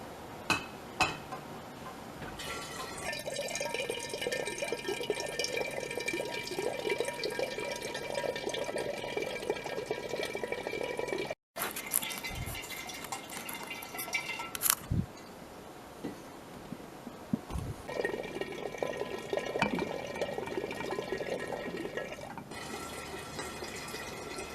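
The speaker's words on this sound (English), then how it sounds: "I'm going to start pouring it into these jars" Kombucha is poured into glass jars in two long, steady pours separated by a short break, each carrying a rising, ringing filling tone with occasional clinks of glass and no voices.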